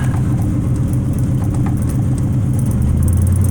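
A rat rod car engine idles close by with a loud, steady low rumble and even pulsing throb, rising slightly in pitch near the end as the revs lift, no voices over it.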